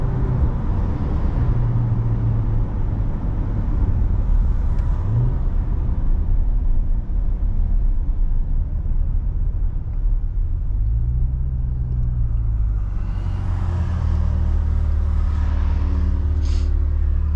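A C8 Corvette engine hums and rumbles steadily from inside the cabin while driving around town, with a few rising rev swells and gear changes over a continuous loud road drone.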